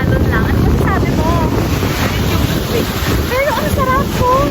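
Rough surf rolls in without pause on a beach at Aureo, La Union, in gloomy weather, with loud wind buffeting the microphone and faint voices in the background.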